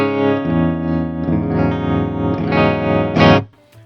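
Electric guitar played through the tremolo effect of a Line 6 Spider Valve HD100 amp, sustained chords pulsing in steady volume waves, loud and up front, ending with a brief final strum that fades out.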